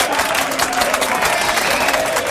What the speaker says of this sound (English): I want to give you all a round of applause, you, your team and everyone.